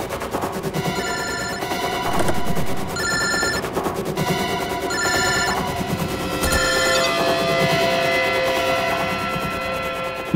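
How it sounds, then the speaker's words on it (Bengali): A mobile phone rings inside a car, its electronic ringtone repeating in loud, insistent bursts over a busy dramatic music background. "রিং তো গাড়ির ভেতরে হচ্ছে।"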